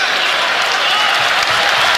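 Dense, loud applause from a basketball arena crowd at an NCAA men's college game between Vanderbilt and Alabama, encouraging a player at the free throw line, sustained and unbroken throughout.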